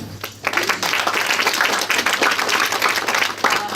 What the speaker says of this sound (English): Please join me in giving a very big round of applause to Katie Halleck and all people from the U.S. Embassy who have supported this initiative.